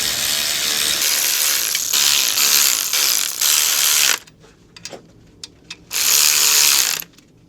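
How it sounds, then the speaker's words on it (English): Air ratchet spinning down the clutch pressure plate nuts on a MK2 Golf GTI 16v engine rebuild, loud whirring bursts with a rattling mechanical edge, one long run, a pause with small clicks, then another short burst. "Just get these done a bit more and then we'll get the whizzer on it"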